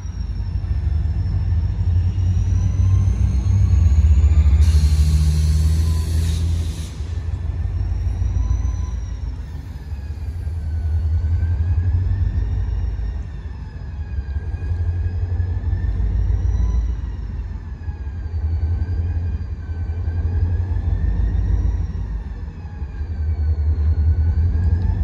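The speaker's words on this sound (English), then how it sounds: "This thing's starting up. Here comes the Herzog work train." A Herzog freight work train starts up, a deep, sustained engine rumble that swells and eases in waves with droning mechanical tones above it and a brief hissing burst early on.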